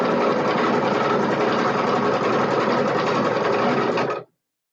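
A sewing machine runs loud and steady at full speed, its close, even mechanical whir holding for about four seconds before cutting off abruptly to silence.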